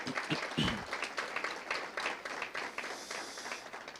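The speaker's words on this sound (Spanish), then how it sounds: "Vamos a dar una ofrenda de palmas al Señor por la vida de nuestros hermanos." Church congregation applauding as an offering of praise, a dense steady wash of hand claps with a few sharper claps close by at the start, continuous for the whole stretch.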